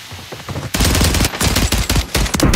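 Rapid automatic STG 44 gunfire in the Call of Duty Warzone Rebirth Island battle royale, a loud, dense burst that starts after a brief lull and keeps rattling to the end of the clip.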